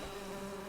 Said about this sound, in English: Bees? Really?